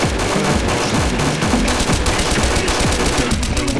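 Rapid bursts of automatic gunfire and single shots crack in quick succession inside the Garry's Mod DarkRP game, loud and continuous throughout with no voices.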